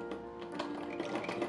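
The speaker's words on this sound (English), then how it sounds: "I decided to re-sew the whole thing with my sewing machine" A treadle sewing machine stitching rapidly with a steady, continuous mechanical whir and fine repetitive ticking, close by and moderately quiet.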